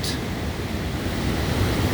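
Fast, strong Niagara River water rushes past rocks at Goat Island, a steady close roar mixed with wind buffeting the microphone.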